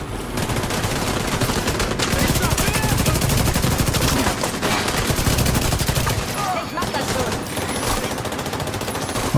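Mounted turret gun hammering out sustained automatic fire in The Division 2, a dense, loud, continuous stream of rapid shots lasting the whole stretch with no pauses.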